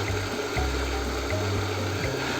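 A pump draws water up from a hand-dug well on a garden plot, sending out a steady wet rushing with low, regular pulsing surges every fraction of a second, close by and without voices.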